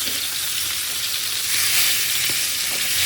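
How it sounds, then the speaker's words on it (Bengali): Rupchanda (pomfret) fish frying hard in hot oil in a pan, a dense, steady sizzle with crackling bursts rising slightly toward the end, close up with no talk. "মাছটা একটু বেশি করে ভেজে নেব, যাতে মাছটা একটু শক্ত শক্ত হয়ে যায়"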